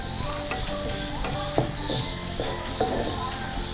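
Shallots, ginger and crushed garlic fry in hot oil for a Kerala fish curry, giving a steady close sizzle broken by a few sharp clinks and stirring knocks.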